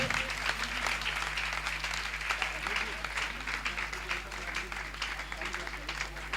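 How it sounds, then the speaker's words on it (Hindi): An audience at a Paryushan religious gathering claps steadily for a poster release, a continuous dense patter of many hands heard at moderate volume over a low electrical hum. "आप लोग जोरदार तालियां बजाकर अनुमोदना जरूर कीजिए।"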